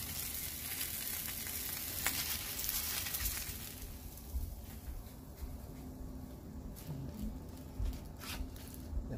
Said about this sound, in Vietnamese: Cứ thế mình chiên cho đến khi nào hết